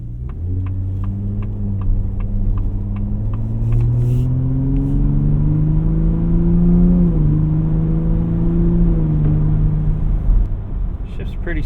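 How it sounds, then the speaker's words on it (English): A 2025 Ford F-150 Raptor with a 10-speed automatic accelerates from inside the cabin. Its engine tone climbs steadily, dips briefly at a smooth upshift, then rises again over a low throbbing hum. "We'll get up here and accelerate."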